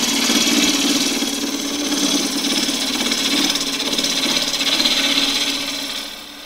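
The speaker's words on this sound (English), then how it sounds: "So in this case I can take a roughing cut just using near the nose of the tool." A half-inch spindle gouge takes a roughing cut on spinning wood on a lathe, making a continuous close scraping rasp over a low motor hum that fades slightly at the end.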